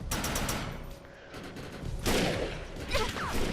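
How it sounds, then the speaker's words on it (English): Dense gunfire pours in from all sides in the video game Defiance, a sustained crackle of overlapping shots with louder bursts flaring up near the end. "Just getting shot from every direction here."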